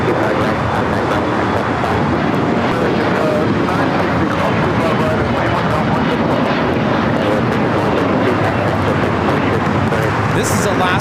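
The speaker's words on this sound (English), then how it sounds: "This is Alaska SkyWest 2432 taking off to Manzanillo on the E-175." An Alaska SkyWest Embraer E-175 taking off at LAX, a loud, continuous roar of jet engines filling the air, with talk running over it.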